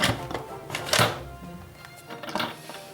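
A pressure cooker lid being closed over a beef stew, giving a few close, sharp clunks and clicks spread over a couple of seconds.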